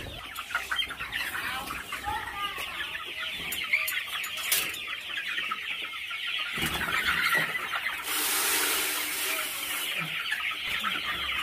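Chickens cluck and squawk steadily inside a newly built coop, the busy flock noise fairly close and continuous with a brief louder burst of squeals near the end.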